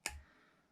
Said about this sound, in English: Now again, you want to use crappy scissors to cut your wire.